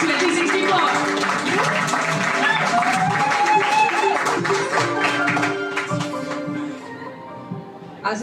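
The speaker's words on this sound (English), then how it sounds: "Start clapping. I want to hear it in the back." A crowd at a Pint of Science pub event claps in a loud, sustained burst of applause with some cheering and voices mixed in, fading toward the end.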